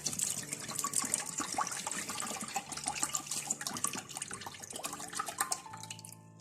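Fresh milk, 200 ml, is poured into a cooking pot, giving a steady close liquid splashing and trickling that tapers off near the end.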